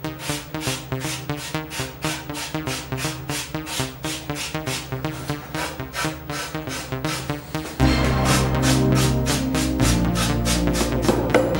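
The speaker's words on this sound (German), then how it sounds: "immer noch mal mit einer groben Feile ein bisschen nachhelfen" A coarse file rasps along the edges of old reclaimed wood for a beer crate, fast even strokes repeating close and loud, then a denser continuous scraping in the last few seconds, with no talk.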